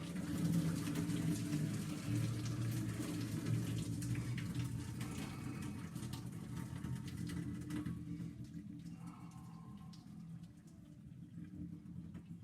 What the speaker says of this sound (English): I'll use this nice lid that I've got to pour the water off.